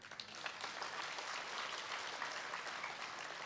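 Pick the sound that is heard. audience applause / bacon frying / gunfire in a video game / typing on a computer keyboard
audience applause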